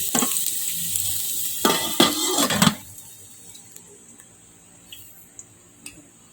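A lid goes onto a simmering pot, with a cluster of close metallic clatters followed by a quiet low bubbling and a few faint ticks.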